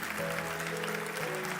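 Church congregation clapping together, a steady wash of applause over a low sustained organ or keyboard tone, brief and fairly close.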